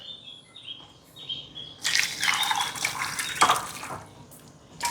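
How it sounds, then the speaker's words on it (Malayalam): Boiled drumstick (moringa) soup poured through a strainer, a steady splashing liquid stream lasting a couple of seconds and then thinning to trickles and drips, close and moderately loud. "അപ്പം മമ്മി അരിച്ചെടുക്കട്ടെ കേട്ടാ"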